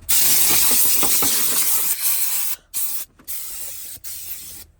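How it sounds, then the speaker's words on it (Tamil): A compressed air gun inside a 2022 Volvo blasts a loud, steady hissing jet of air for a couple of seconds, then fires in shorter sputtering bursts separated by abrupt cutoffs. "இங்கே ஒரு ஏர் கன் இருக்குது, இதை சொல்ல மறந்துட்டேனே"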